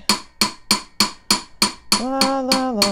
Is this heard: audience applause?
no